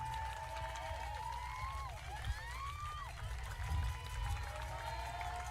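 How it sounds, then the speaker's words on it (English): Little Rock Rangers players applaud at a UPSL women's national championship soccer match against the Albany Alleycats, with scattered clapping set in a lively crowd of voices and calls over a low, rumbling outdoor background. "Little Rock Rangers stand there and clap"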